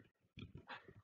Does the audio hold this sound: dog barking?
yes